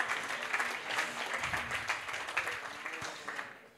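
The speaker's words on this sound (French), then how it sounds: "on peut l'applaudir" A crowd applauds a guest invited to a round-table discussion on rurality, with dense clapping from many hands that stays loud and steady and then tapers slightly near the end.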